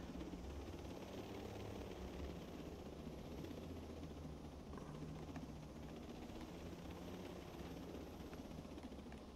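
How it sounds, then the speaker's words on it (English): A helicopter's steady rotor thrum and engine drone in the video game Ghost Recon Breakpoint fill the whole stretch, loud and continuous, with no talking over it. "Now we got this chopper closer."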